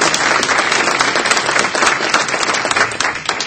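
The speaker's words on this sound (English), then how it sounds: "let's give him applause" Audience at a Campaign for Liberty gathering claps for a conservative member being introduced, a loud, dense round of applause from a room of people lasting several seconds.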